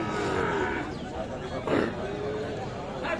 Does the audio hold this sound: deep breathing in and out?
no